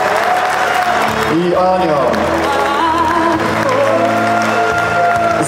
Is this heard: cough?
no